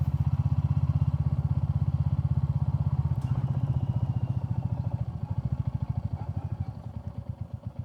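A Royal Enfield Classic 350 on street tires rides a gravel road, its single-cylinder engine thumping steadily and loud up close, with the pulse gradually slowing and loosening toward the end.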